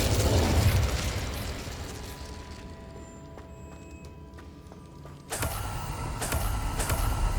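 Incendio fire spell cast in Hogwarts Legacy: a burst of whooshing flame fades into a quieter hum, then a second sharp blast of crackling fire rises and holds, loud and close with no voices.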